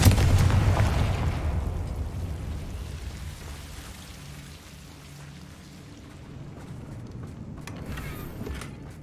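A Confringo fire spell explodes in Hogwarts Legacy, a loud booming blast at the start that decays into a rumbling, crackling tail and a low ambient drone.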